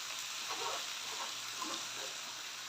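Chopped bottle gourd frying in a pan, a soft, steady hiss and sizzle with faint bubbling swells, continuous and fairly quiet throughout.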